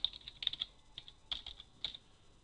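Short bursts of clicky keystrokes on a computer keyboard as FTP login details are entered, close and fairly quiet, in quick irregular clusters with brief pauses.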